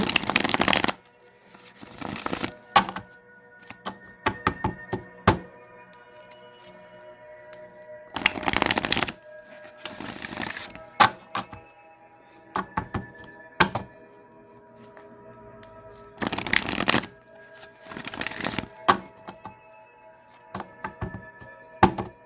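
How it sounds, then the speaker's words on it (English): Tarot cards being shuffled in several loud bursts of riffling, with quieter card handling, taps and soft clicks between them over faint steady background music. "And so now I'm going to pull from the body tarot."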